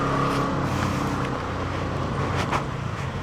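A QJ Fortress 160 hybrid scooter accelerates on the road, its engine and road noise a steady, fairly loud drone that swells briefly toward the end, with no talking.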